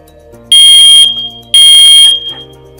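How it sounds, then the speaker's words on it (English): A smoke detector's test button sets off its alarm, two loud piercing electronic beeps of about half a second each, very close and shrill over a quiet background. "I am going to go ahead and show you our little test button here, just so you can see that it is a very loud alarm"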